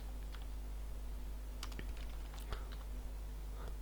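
A short burst of soft computer keyboard typing while entering text in a web page builder, scattered light key taps over a steady low hum, with no talk.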